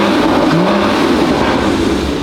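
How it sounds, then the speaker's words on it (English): A stock Porsche engine from a wrecked car being revved in a garage during a coolant check, a loud continuous roar that holds steady throughout without any talk. "Rev it. Rev it again."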